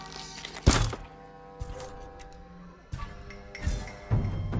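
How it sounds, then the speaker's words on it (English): Rocks thrown at the player in Ghost of Tsushima land as several dull, scattered thunks and thuds, fairly faint, with game ambience behind them. "they're throwing rocks at me"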